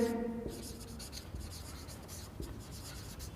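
Marker or chalk writing on a board in a quiet classroom, faint soft strokes with a few light taps, after a brief tone at the start.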